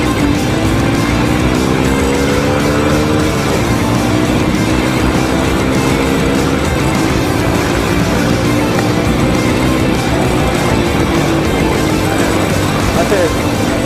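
Rusi Korak 110cc motorcycle engine revved hard and held at high pitch, a loud continuous drone with rising and falling engine tones throughout, close by, with voices talking underneath.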